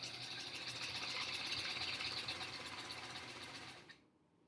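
A sewing machine stitches a dark blue border onto a quilt top with a close, continuous whirring hum that stops abruptly near the end, leaving silence.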